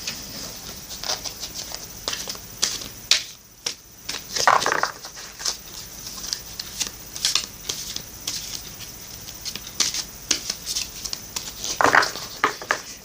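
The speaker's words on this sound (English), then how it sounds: "I'm shuffling for you now the Crystal Mandala Oracle deck." Close, continuous papery shuffling and patter of a Crystal Mandala Oracle card deck being handled, with occasional louder flicks and scrapes.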